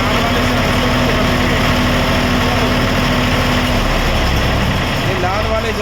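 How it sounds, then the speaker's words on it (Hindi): A 15 kVA open-frame generator running steadily right after starting, a loud continuous engine drone close by, with someone talking over it throughout. "ये जनरेटर स्टार्ट हो गया"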